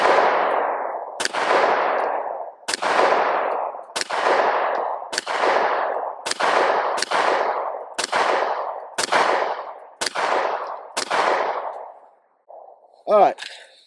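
Shots from a GX4 pistol at a shooting range ring out about once a second, roughly ten loud, sharp reports each with a ringing tail, followed by a brief metallic clink at the end.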